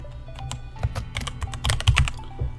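Rapid typing on a computer keyboard while renaming a game folder for The Isle on a PC, a close, steady patter of key clicks with a few heavier strokes and no talking.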